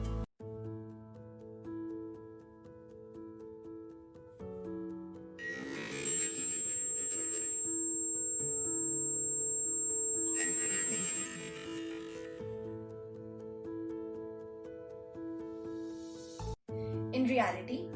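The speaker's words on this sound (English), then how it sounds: "If a vehicle crosses the laser line, then the circuit breaks and this sends a signal to the cameras, in our case the sound alarm" An electronic alarm from a laser tripwire circuit sounds as a sharp, high, steady tone lasting several seconds under ongoing speech, with a second burst of the tone later.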